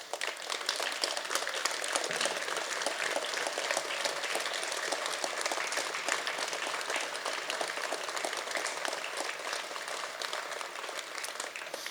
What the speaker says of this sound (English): Can everyone please stand and give them an applause?